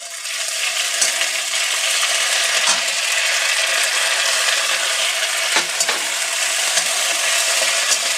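Onion with ginger-garlic paste and chopped green chilli stir-fried in a pan for a soybean paratha filling, a loud steady sizzle with scraping stirs and occasional clinks of the spatula throughout.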